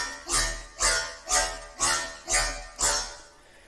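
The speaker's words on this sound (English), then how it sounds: "today I will show you how I made this bass patch in Vital Synth" Wonky riddim dubstep bass patch from the Vital synth pulses six times in an even, lurching rhythm, each note swelling with a bright wobbling growl over a deep low end, loud and alone.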